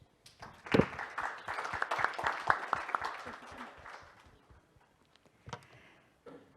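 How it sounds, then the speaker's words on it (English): Audience applause at a morning session of a regional human resources development forum, a short burst of clapping that swells, then thins out and fades, with a few scattered claps near the end. "shall we give them a hand of applause?"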